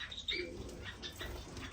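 Small finches in an indoor bird room give brief high chirps and a few soft calls, with light wing flutters, close by and moderately quiet, no talking.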